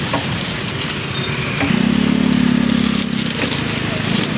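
Motorcycles struggle across a slippery railway level crossing, one engine droning and revving steadily in the middle while wheels slip, set against busy traffic noise and voices.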